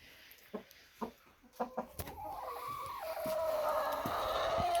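Chickens cluck in short, scattered calls up close, then a rooster lets out a long, drawn-out crow that fills the second half.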